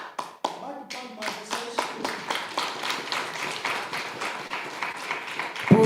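A speaker at an international anti-racist seminar claps his hands in a steady, moderately paced run of sharp claps, close and fairly loud, with a brief pause near the start.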